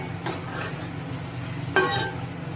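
Fresh curry leaves fry in a pan of chicken curry base, a steady low sizzle with a couple of sharp spoon scrapes and clinks as they are stirred.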